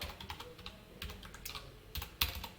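Someone types code on a computer keyboard, a quiet, close patter of uneven keystrokes with a couple of sharper taps near the end.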